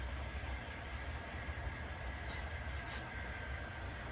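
An HO scale model train runs on a layout, giving a faint, steady whirring and rolling hum with no distinct clicks, heard alone.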